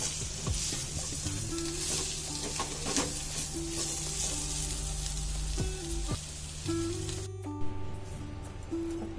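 Bharang, a wild monsoon vegetable, is mixed in a frying pan with a quiet continuous sizzle and occasional soft scrapes and clinks from the spatula, close by.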